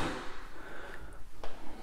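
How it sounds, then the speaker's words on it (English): A soft-close kitchen drawer in a new-build home in Waxahachie, Texas, glides shut with a muted thud and a faint click, heard against steady room noise with no talk. "Soft close drawers"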